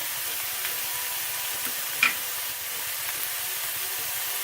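Celery sizzling in a hot pan, a steady, even frying hiss with a few small pops and one brief clatter partway through, no voices.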